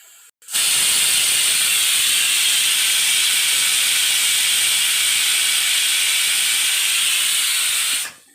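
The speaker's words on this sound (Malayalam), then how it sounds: "കുക്കർ ഒന്ന് കൂകി വിളിച്ചിട്ടുണ്ട്" A pressure cooker lets out one long, loud, continuous steam whistle and hiss close by, starting abruptly and holding steady for about seven and a half seconds before cutting off.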